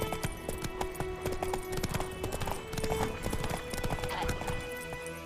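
Rapid hoofbeats of a galloping horse from the video game The Witcher 3 Wild Hunt, a steady clattering rhythm close up with a faint whinny and background tones.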